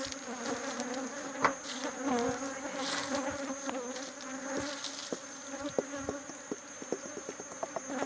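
Honeybees buzz around beehives with supers stacked on the hive bodies, a dense and continuous hum of many insects close by, with individual bees passing near and a few faint clicks.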